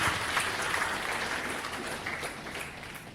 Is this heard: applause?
yes